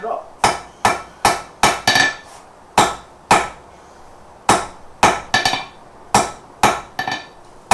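Hammer blows ringing on hot metal over an anvil during forging, about a dozen sharp, loud strikes in irregular bursts with brief pauses between.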